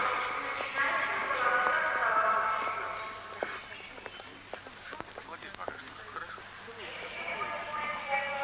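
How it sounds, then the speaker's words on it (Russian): Express train 47 from Moscow pulls into a station platform, its rolling rumble and scattered wheel squeals heard under a loudspeaker announcement. "Скорый поезд 47 из Москвы прибывает на первый путь."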